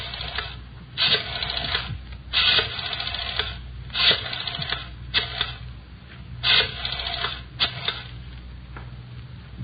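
An old telephone is dialed close up, with repeated mechanical clicking bursts separated by short pauses, heard through a narrow, radio-like band with no voices.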